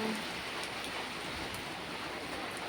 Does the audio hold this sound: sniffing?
no